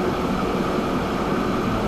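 A train rolls past in the Train Fever railway game, a steady dense rumbling wash that holds at an even level throughout with no talk over it.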